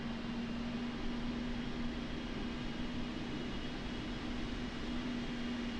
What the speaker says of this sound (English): So let's start the APU.